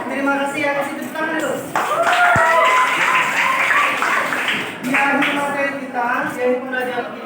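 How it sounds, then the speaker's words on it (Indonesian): A classroom of students gives a burst of applause, a dense wash of clapping lasting a few seconds. A teacher talks before and after the clapping. "Kasih tepuk tangan dulu."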